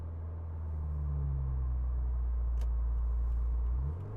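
Subaru Legacy GT pulling out to overtake, heard from inside: a steady, loud low engine drone that holds under road noise, then rises in pitch near the end as the car accelerates, with no talking.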